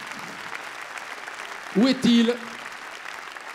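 Audience applause at an honorary award ceremony held by a regional academy in Bresse, France, steady and continuous throughout, with someone briefly speaking over it midway.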